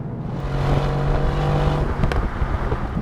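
Mercedes-AMG GT R Pro engine and exhaust roaring loud and close, a steady deep rumble building under heavy throttle with a sharp crackling burst near the end.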